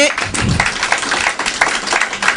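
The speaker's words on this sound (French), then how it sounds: "je vous demande d'applaudir. On applaudit." Audience applause at a political party rally, a short burst of scattered clapping mixed with crowd noise and a voice speaking over it.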